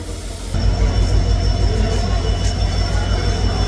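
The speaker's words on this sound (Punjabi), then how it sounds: "ਸਾਹਮਣੇ ਟ੍ਰੇਨ ਆ ਗਈ ਆ ਪਿੱਛੇ ਖੜ ਗਈ ਟ੍ਰੇਨ" A passenger train pulls in at Rajpura station platform, its deep steady rumble rising suddenly and holding loud and close, with a thin high whine above it.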